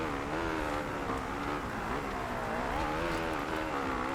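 Motocross motorcycle engine in MXGP2 on an Italian track, a steady buzzing drone with wavering pitch as the rider works the throttle, fairly faint and continuous with no talk over it.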